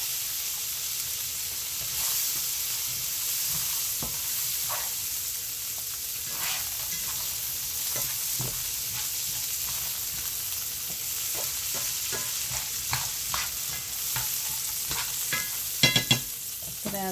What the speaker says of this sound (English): I'm going to fry that up in that butter and garlic